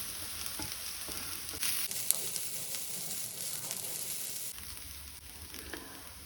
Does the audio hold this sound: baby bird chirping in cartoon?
no